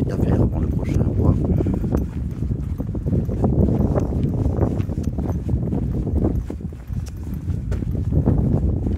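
Steady, heavy wind buffeting the microphone, a constant low rumble that continues throughout with brief gusts.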